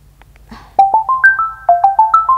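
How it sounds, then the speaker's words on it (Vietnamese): A phone ringtone plays a repeating series of bright electronic tones that step up and down in pitch, loud and close, starting after a brief quiet moment with no talk over it. "Có điện thoại."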